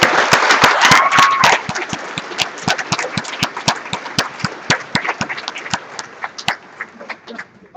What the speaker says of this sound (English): We just give one last round of applause for all these wonderful